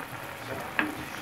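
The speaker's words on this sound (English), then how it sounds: "When it started to fry" Sugar cake mixture frying in a pot for a Guyanese-style recipe, a soft steady sizzle with one brief sharp crackle midway, quiet and heard alone.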